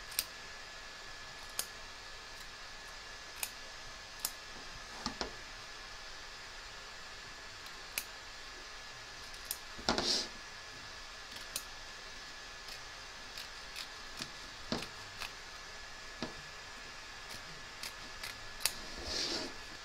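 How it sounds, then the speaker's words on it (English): Scissors snip away excess fabric around an embroidery hoop beside the stitch line of a large skeleton appliqué, with sharp, scattered clicks and cuts at irregular intervals, fairly close but quiet against a faint hiss. "We're now going to trim away the excess fabric from both back and front of the hoop"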